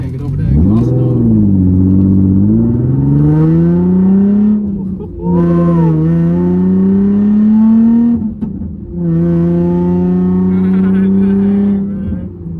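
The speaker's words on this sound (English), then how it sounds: "Just can't get over that exhaust though." A Rocket Bunny Nissan 350z exhaust revs repeatedly, loud and close, the engine note climbing and falling in three long pulls with brief gaps between them.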